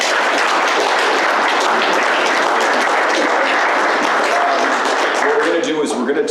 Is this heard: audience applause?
yes